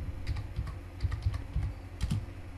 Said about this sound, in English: So you need to type this command, create partition primary, and just hit enter.